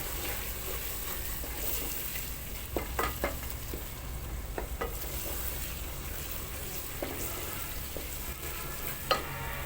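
Masala with tomatoes sizzles and fries in a pot while being stirred, a steady close crackle broken by scattered scraping clicks of the spoon, with no talking.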